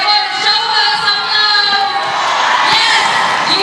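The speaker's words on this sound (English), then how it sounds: "Definitely buoyed by a home crowd, which has turned out in full force." A home crowd cheers at a netball final between Malaysia and Singapore, a loud sustained roar of shouts and whoops from a packed arena that fills the whole stretch.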